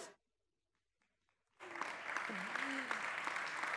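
A near-silent pause gives way to a sudden burst of strong, sustained audience applause at a televised awards gala, with a voice sounding briefly over the clapping.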